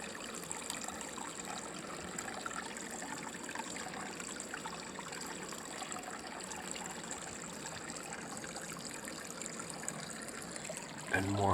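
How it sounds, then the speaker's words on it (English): River water flowing near hot springs at night, a steady broadband rush and trickle holding at an even level throughout, with no voices over it. "There's a river down there."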